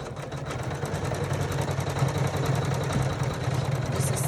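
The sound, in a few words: embroidery sewing machine stitching a quilting motif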